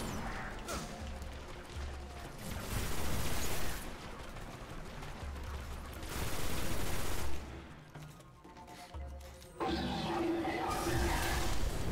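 Enemy machine gun fire in the video game Destiny during a Nightfall strike, a sustained loud fusillade of rapid shots with crashing impacts that surges and dips over several seconds.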